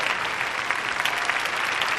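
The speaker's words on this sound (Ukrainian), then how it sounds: "Оплески." Steady, dense applause from a concert audience in Chernivtsi, Ukraine, an even wash of clapping from many hands, fairly close, sustained without a break.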